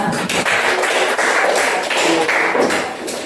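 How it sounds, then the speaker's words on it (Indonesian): Classmates give a short burst of scattered hand clapping in a school classroom, dense and fairly loud throughout before tapering slightly. "Berikan aplaus kepada temannya"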